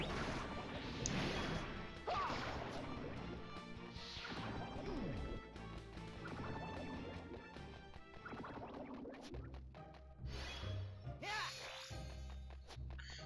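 Heavy combat impacts from a critical hit attack in the 3DS game Final Fantasy Explorers, a series of loud crashing smashes and whooshing effects layered over game music, with faint talk in places.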